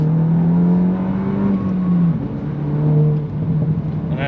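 Tuned Volkswagen MK8 GTI accelerating hard on a closed road course, a loud droning engine note rising and dipping through gear changes, heard close up from inside the car with no talking.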